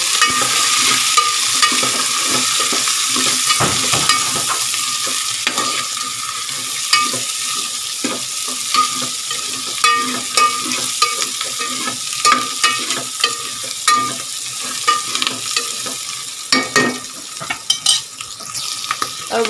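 Paneer, soya chaap and peas stir-fry in a pan with an even hiss of oil, broken by frequent close clinks and scrapes of a spoon against the metal, with no voices.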